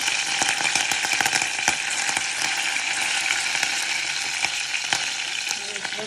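Prawns fry in a hot pan for a Jaffna-style Sri Lankan prawn curry, a steady close crackling sizzle with sharp pops throughout, no voices over it.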